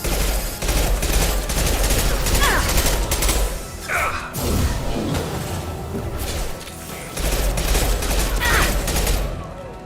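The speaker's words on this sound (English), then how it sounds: "Firing an impact shot." Sustained gunfire and explosive impacts from Mass Effect 2 Legendary Edition combat, loud and continuous bursts with crashes and booms, with a voice speaking intermittently over the fighting.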